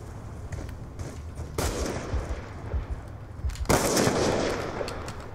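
Sniper rifle shots in Call of Duty Black Ops 2 multiplayer, two loud, sharp broadband blasts about two seconds apart over a busy low rumble of game sound and lighter gunfire.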